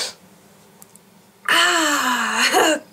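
A single loud sneeze bursts out close to the microphone after a quiet stretch, a sharp voiced blast with a trailing exhale that lasts about a second and a half.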